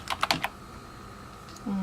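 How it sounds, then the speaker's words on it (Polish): Fingers tap out a quick run of four or five keystrokes on a computer keyboard while typing an analyst's name, then the room goes quiet apart from a faint hum, and a low tone enters at the end. "Wprowadzamy nazwisko analityka."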